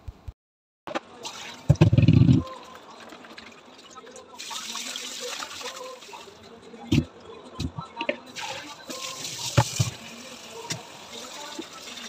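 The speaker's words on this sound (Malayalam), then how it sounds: "ഞാൻ ഈ മീനൊക്കെ വെട്ടി ഇതൊക്കെ ഒന്ന് കഴുകി എടുക്കട്ടെ." Cut fish being washed under running water in a home kitchen, a brief loud gush of tap water followed by softer splashing and handling, with someone talking throughout.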